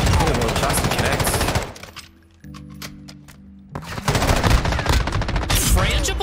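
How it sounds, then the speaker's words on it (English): Bursts of rapid automatic fire from an M13 rifle in Call of Duty: Modern Warfare II, loud and close, with dense rattling volleys at the start and end separated by a quieter lull. "I'm spam shooting"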